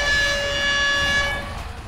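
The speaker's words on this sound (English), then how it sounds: "that air horn is interrupt" A loud blaring air horn sounds as an interrupt cue in World of Warcraft: Dragonflight, one sustained brassy tone lasting about a second and a half before it cuts off, followed by quieter game sound.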